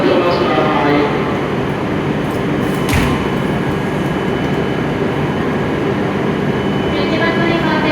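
An E7 series Hokuriku Shinkansen train arrives at platform 11 of Kanazawa station, a steady broad rumble of rolling wheels and motors lasting throughout, with a brief sharp burst near the middle and faint station announcements underneath.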